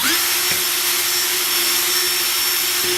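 A power drill bores into a jam jar lid with a continuous steady whine and harsh grinding hiss that holds without a break from start to finish.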